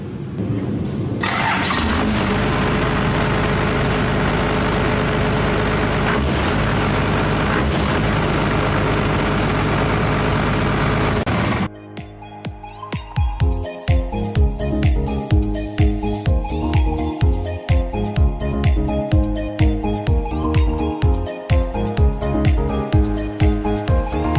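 A small engine with a modified fuel pin roars loudly and steadily, cuts out abruptly, then settles into a close, rhythmic chugging idle with pulsing beats.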